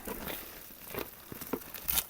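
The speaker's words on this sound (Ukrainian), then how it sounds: "В принципі, це все скотчем якось так заклеїли. Дивіться, це все здирається" Packing tape is peeled and torn off a parcel shipped from the USA, giving a quiet series of close crinkling, ripping bursts at uneven intervals.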